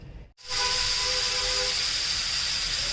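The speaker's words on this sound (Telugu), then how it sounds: "మనం కుక్కర్ మూత పెట్టుకోవాలండి నాలుగు విజిల్లు రావాలి" A pressure cooker whistles and vents steam while mutton curry cooks Telangana style, a loud, steady hissing jet with a sharp whistle tone that bursts on after a brief silent gap and holds without talk.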